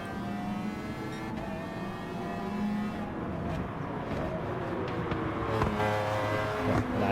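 A race car in the video game Gran Turismo Sport accelerates steadily, its engine droning and rising through the gears at moderate loudness, with a faint hint of another car alongside and no talk.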